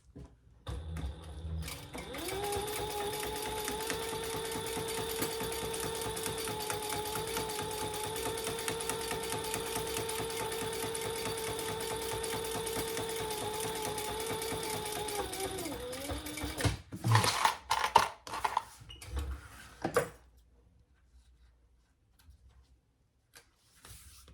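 A sewing machine runs steadily for about fifteen seconds, stitching a row along a crossbody bag in a steady whirring drone, then stops, followed by a few loose clicks and handling knocks.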